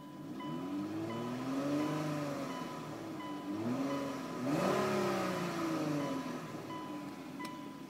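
A 2005 Hyundai Tucson V6 engine revving repeatedly, its pitch rising and falling in steady sweeps, close and fairly loud with no talking.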